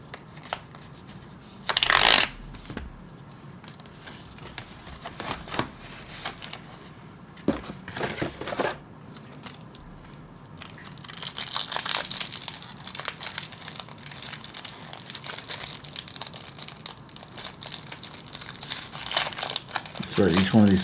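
A trading card booster pack wrapper from a Secret Scare Superdrop is crinkled and torn open, with loud bursts of crackling foil early on, then sustained close crinkling and rustling of the wrapper over the latter half, without speech.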